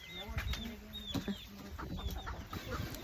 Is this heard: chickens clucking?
yes